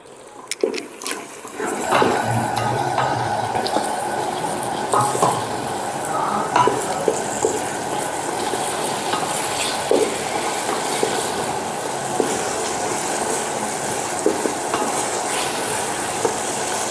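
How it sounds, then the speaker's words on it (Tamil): Yogurt poured into frying masala for chicken basmati biryani sets off a steady, close sizzle after a brief quiet start, with repeated spoon scrapes and clinks against the pot as it is stirred. "இப்போ தயிர் வந்து ஒரு நூறு கிராம் ஊற்றிக்கலாம்"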